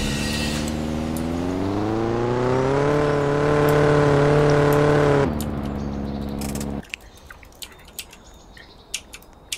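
A car in the Roblox roleplay game Mayflower drives along with a steady engine drone that climbs in pitch as it accelerates, holds, then cuts off, leaving faint clicks and ticks.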